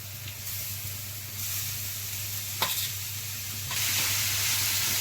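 Grated beetroot and green chillies fry in a pan for a beetroot egg fry, a steady sizzling hiss with scraping stirs, growing louder toward the end, close by with no talking.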